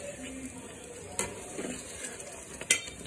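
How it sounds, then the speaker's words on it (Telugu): Masala curry for stuffed brinjal is stirred and fried in a pan over high heat: soft sizzling underneath, with a few sharp spoon scrapes against the pan spaced irregularly. "ఇలా కదిలించినట్టుగా మసాలాని ఇటు అటు అడ్జస్ట్ చేసి పెట్టుకొని"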